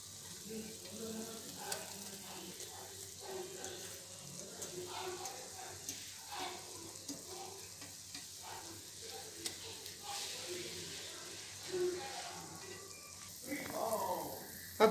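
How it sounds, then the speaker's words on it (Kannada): Egg curry coming to a boil in a pan, a soft steady bubbling and sizzle with faint stirring and clinks, fairly quiet throughout. "ಫ್ರೆಂಡ್ಸ್ ಈಗ ಕುದಿ ಬಂದಿದೆ."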